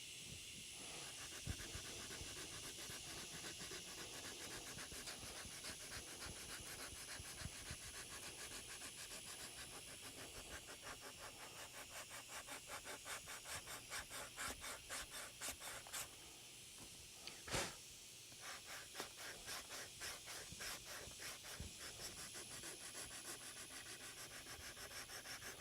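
Sandpaper rubbing steadily along a wooden guitar neck, working a 120-grit finish across the front edge; a continuous close scratchy hiss with fast back-and-forth strokes and one short pause, no talking.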